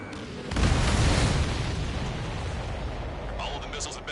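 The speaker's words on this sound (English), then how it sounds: "All of the missiles have been destroyed." Missiles explode in Ace Combat 7: Skies Unknown with a sudden heavy boom that swells into a long roaring rumble, fading gradually as faint game tones enter near the end.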